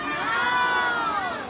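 A crowd of children shouts and screams in excitement at a drawing show, a loud, sustained burst of high-pitched cheering that fills the whole moment.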